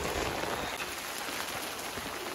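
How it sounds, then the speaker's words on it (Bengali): Heavy rain falling steadily for the whole stretch, a dense even hiss of drops on surfaces with no pauses, fairly distant and without voices. "প্রচুর বৃষ্টির আওয়াজ।"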